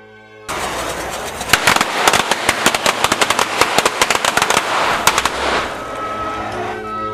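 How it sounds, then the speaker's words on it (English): Basic fuse-lit firecrackers set in the upper floors of a model tower in a collapse experiment pop in a rapid, irregular string of loud, close cracks lasting several seconds before dying away. "I was using basic fuse and firecrackers, which are very difficult to time and control"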